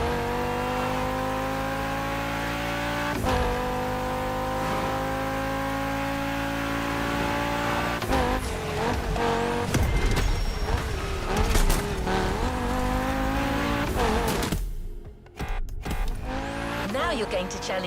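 A Peugeot 3008 DKR maxi buggy's engine in The Crew Motorfest roars steadily and loudly, with rising revs, tire squeal and skidding on an off-road time attack, and a voice talking over it.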